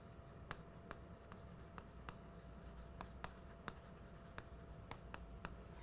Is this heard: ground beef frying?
no